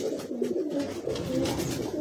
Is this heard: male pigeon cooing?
yes